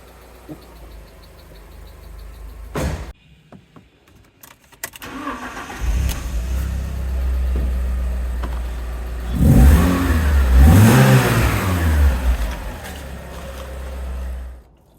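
Alfa Romeo GTV engine after accident repair, a few clunks before it starts up into a close, steady idle, then revs rise and fall in a couple of swells before settling back to idle, with no talk.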